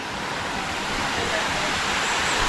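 The Busilac waterfall rushes with a loud, dense, continuous roar of strong-flowing water, close by and steady throughout.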